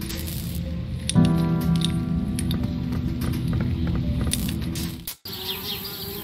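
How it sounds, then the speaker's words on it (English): Bees buzz around a treehouse in the adventure game Anna's Quest, a continuous insect drone over a light ambient bed that cuts out abruptly near the end. "Darn bees, trying to move into our treehouse."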